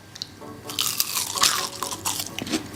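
Crisp crunching bites into triple cooked chips, several loud close crunches in quick succession with a chewy squish between them, with no talking.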